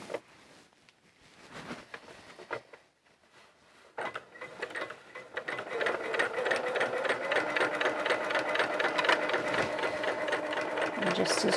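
A sewing machine top-stitches a pair of Eden coveralls, starting with slow, hesitant bursts of stitching and then running into a loud, steady, rapid whir close up.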